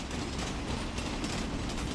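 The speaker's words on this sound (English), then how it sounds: "That sounds like a train to me." A train rolling past, with a steady, loud rumble and rattle of rail cars that holds constant throughout, no voices.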